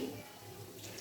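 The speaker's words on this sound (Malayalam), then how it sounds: "വെള്ളം നമുക്ക് ആവശ്യത്തിന് ചേർക്കാം." Water is poured into a pot of rasam, a brief, faint, steady splashing trickle.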